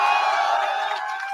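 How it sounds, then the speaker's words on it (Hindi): A large crowd at an outdoor political rally in Bihar cheering and shouting in a steady, loud roar that tapers slightly toward the end. "भाई ये ताली उली बजाना बंद कर दो"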